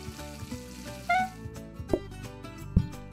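Game-kitchen cooking while spaghetti is prepared in PlateUp: a steady low sizzle, with a short tonal chime near the middle and a couple of sharp clunks, fairly quiet and without speech.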